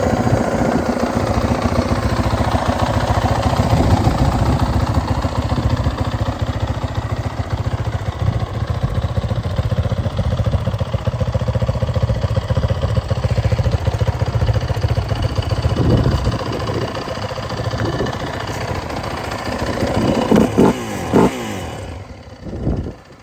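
A Yamaha WR450 trike engine runs steadily and loud for most of the stretch, idling with rough clatter, then a few short throttle blips near the end before it cuts off.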